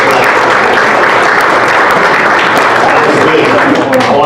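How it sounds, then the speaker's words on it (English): A luncheon audience gives a loud, sustained round of applause, a dense wash of clapping blended with crowd murmur and voices, holding steady from start to finish. "Let's give everybody a round of applause for that."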